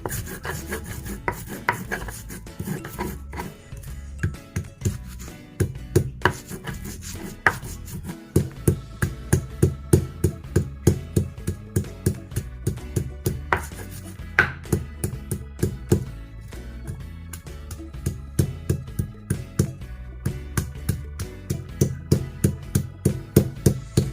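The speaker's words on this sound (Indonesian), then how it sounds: "Kita ulek sampai benar-benar halus ya bun." Mortar and pestle (ulekan) pounding and grinding spices for coconut serundeng, a steady run of close, rhythmic strokes and rasps that grows more regular and insistent as it goes on, with no talking.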